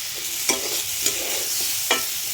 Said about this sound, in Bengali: মশলাটা ভেজে নিই।